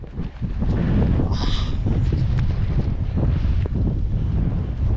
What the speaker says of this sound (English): we've got a wee bit of a wind and I'm hoping that that tent will head up to it